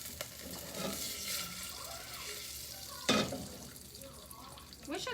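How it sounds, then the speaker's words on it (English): Oil and popcorn kernels sizzle with a soft, continuous hiss and faint crackle, broken by a brief louder burst, while people talk nearby. "It's starting to sizzle."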